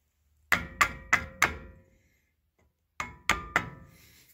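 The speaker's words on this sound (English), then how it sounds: "Hammer." Seven sharp metallic hammer strikes on a pin during a Toyota 4x4 brake job, four in quick succession, a short pause, then three more, close and fairly loud with brief ringing decay.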